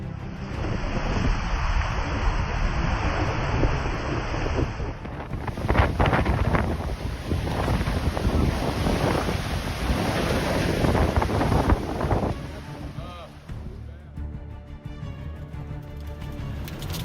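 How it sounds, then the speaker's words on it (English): Strong wind roars across open ground, buffeting the microphone in loud, sustained gusts, as a roof sheet is torn loose and lifted into the sky; the blast is steady throughout and eases slightly toward the end. "the roof sheet was lifted by the wind, soaring like a giant kite in the sky."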